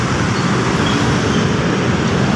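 Dense, steady road traffic at the Masinag terminal, with a continuous close wash of engines and tire rumble from buses and cars.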